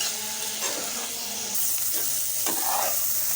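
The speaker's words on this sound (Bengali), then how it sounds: "এখন আমি এখানে থেকে ভালো করে ফুলকপিটা ভেজে নেব।" Cauliflower fries in a hot pan and gets stirred, giving a steady, dense sizzle and hiss with occasional scraping stirs throughout.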